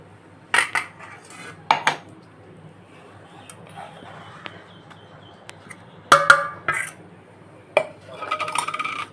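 Spoon clinks and scrapes against a bowl while dal is mixed with mustard-coconut paste, a few sharp close taps separated by quiet pauses.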